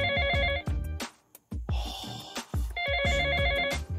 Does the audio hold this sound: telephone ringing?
yes